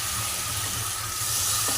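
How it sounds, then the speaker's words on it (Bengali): Water used to rinse spices is poured into a pan of potato and cauliflower curry and sets off a loud, steady sizzle that hisses close by without a break, with no talking. "আর আমি ওই মশলা ধোয়া জলটা এবার এর মধ্যে দিয়ে দিলাম"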